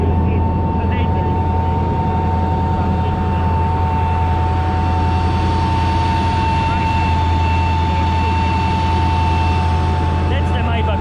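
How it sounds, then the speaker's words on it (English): A tank's Maybach engine runs continuously at close range, with a loud, steady, low rumbling drone and a sustained whine on top, driving in Poland. "That's the Maybach engine."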